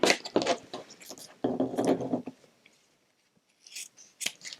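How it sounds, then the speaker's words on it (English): Scissors handled at a crafting table while making recycled Christmas cards, with a few close, dry snips and rustles in short bursts, then quieter scattered clicks after a brief pause. "Now let's see if I can find my scissors."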